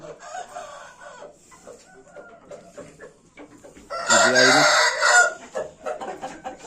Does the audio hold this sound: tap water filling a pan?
no